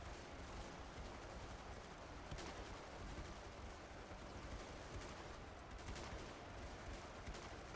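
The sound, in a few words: musket gunfire from video game Ultimate Epic Battle Simulator II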